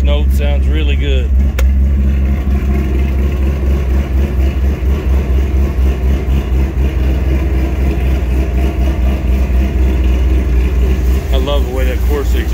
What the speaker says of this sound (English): Crazy exhaust note, sounds really good.